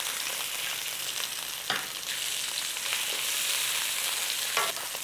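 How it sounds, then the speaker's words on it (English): Sausages brown in a frying pan with a steady, close hiss of sizzling fat and a few faint scrapes and pops, with no talking. "So get these sausages browned off a little bit in here."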